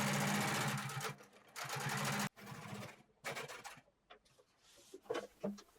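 A sewing machine top stitching rows on jeans, running in loud steady bursts of rapid needle strokes separated by short pauses, close and alone.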